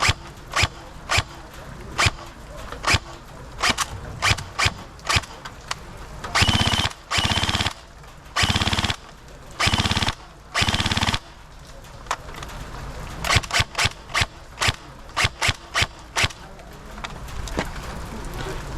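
A Perun P90 airsoft gun with a MOSFET fires close by, first as many rapid single shots, then as several loud full-auto bursts of about a second each at high rate, followed by more quick single shots.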